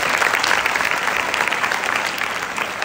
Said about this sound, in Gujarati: તાળી પાડીશું.